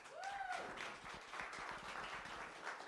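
Applause from an evening event audience as a sponsor is welcomed up, a steady moderate wash of clapping with a couple of brief whistles near the start.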